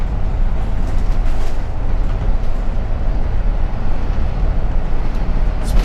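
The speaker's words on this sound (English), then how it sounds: "as I'm pushing to the floor to accelerate, this is full power" A 2013 Thor Palazzo 33.2 diesel pusher motorhome accelerates at full throttle, its engine a steady, loud, broadband roar with deep rumble that holds constant throughout, no talk over it.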